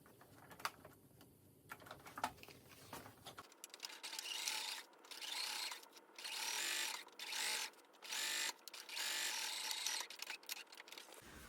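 A sewing machine stitching a front pant piece and pocket piece along a seam, running in several bursts of fast whirring separated by short pauses, close and alone with no talking.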